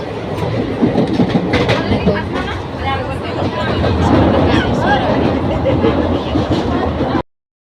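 A passenger train heading toward Guwahati station rumbles and clatters continuously at close range, with a babble of voices from people riding aboard.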